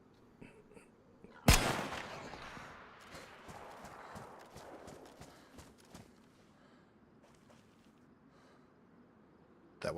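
A single gunshot rings out in the survival game DayZ, a sudden loud crack with a long echoing tail that fades over a few seconds. Scattered light clicks and footsteps follow.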